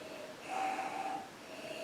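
A single soft, drawn-out sniff close up, quiet and brief against faint room noise.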